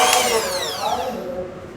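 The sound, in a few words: electric mixer beating cake batter at speed 1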